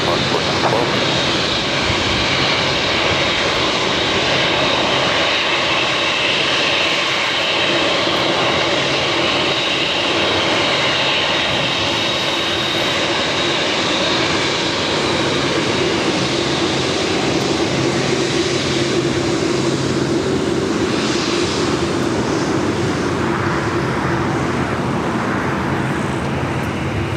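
Jet airplane engines roar continuously during takeoff at LAX, a loud steady rumble that lasts throughout, mixed with faint traffic noise and intermittent radio voices.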